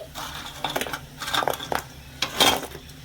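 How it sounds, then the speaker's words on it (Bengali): Semolina sweets drop one after another into hot sugar syrup in a pan, giving a few soft plops and crunchy, crackling impacts that come in short clusters, close and fairly loud, with no talking. "এবারে গরম গরম চিনির রসের মধ্যে আমি মিষ্টিগুলো ছেড়ে দিচ্ছি"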